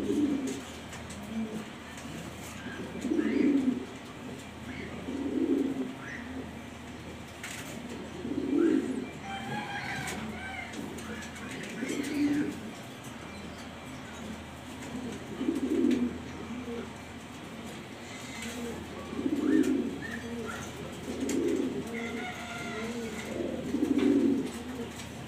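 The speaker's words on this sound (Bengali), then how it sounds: "ব্ল্যাক কালার ড্যানিশ কবুতর" Black Danish pigeons, including a cock bird, coo in low repeated rolling phrases every few seconds, moderately close and fairly quiet over a soft background hum.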